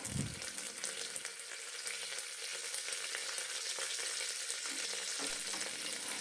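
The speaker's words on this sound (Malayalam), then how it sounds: "നമുക്കതിലേക്ക് കീറി വച്ചിരിക്കുന്ന രണ്ട് പച്ചമുളക് ചേർത്ത് കൊടുക്കാം അതിനുശേഷം നമുക്ക് ശകലം കറിവേപ്പില കൂടെ ഇതിലേക്ക് ചേർത്ത് കൊടുക്കാം" Slit green chillies and curry leaves frying in oil in a pan for dal fry, a steady, fairly faint hiss of sizzling with a brief louder burst at the start and no voices.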